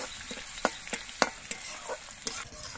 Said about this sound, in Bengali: রসুনটা একটুখানি সময় ভেজে নিতে হবে।